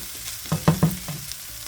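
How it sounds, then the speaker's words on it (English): Rice being stirred into garlic and onion in a pan, a few short scraping strokes with soft sizzling beneath, close and moderately loud, no one talking. "I'm going to go ahead and add the rice in and mix that around really good"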